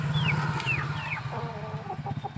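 Clucking of a parrot-beak aseel chicken, a few close, loud, rising and falling calls that quickly follow one another over a low background hum.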